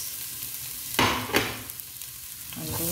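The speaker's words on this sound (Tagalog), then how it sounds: "Gisa na tayo ng sibuyas. Lagyan natin konting oil lang." Onions sautéing in a little oil for bukhary rice give a soft sizzle, broken by a couple of louder stirring scrapes and rustles close by.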